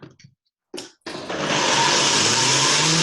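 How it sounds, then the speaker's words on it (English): A blender whirs up loudly after a couple of short bursts, then runs in a continuous strained roar while churning a thick plant-based mayonnaise mix. "that blender just went right. So that means it's not blending. It's struggling."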